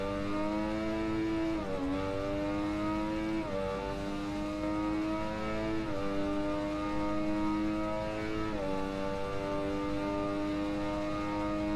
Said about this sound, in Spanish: Aquí creo que se pone a tope la moto